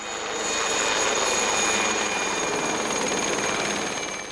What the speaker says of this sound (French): Si les nuisances sonores engendrées par l'hélicoptère sont d'une durée inférieure à celles provoquées par le traitement classique